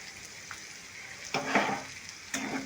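A ginger, garlic, tomato and onion paste fries in hot oil with a steady close sizzle, flaring louder in short bursts as it is stirred, no talking.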